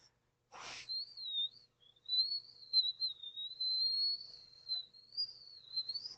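A person whistles a long, wavering, thin tone after a short breath sound; the whistle is quiet and somewhat unsteady.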